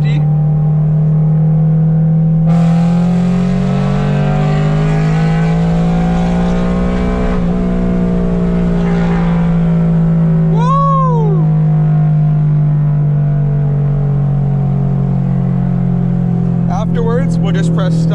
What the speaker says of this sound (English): And I'm gonna go in third gear.